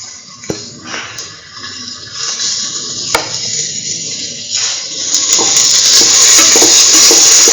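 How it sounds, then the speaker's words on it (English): Curried lentil rice mixture sizzles steadily in a hot pan while being stirred and sautéed, with scraping and clinking of a utensil against the pan growing louder and denser toward the end. "Keep on thoroughly sauteing mix."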